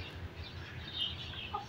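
Chickens clucking faintly amid steady background noise in a home garden where peacocks are also kept, soft scattered calls over a continuous hum.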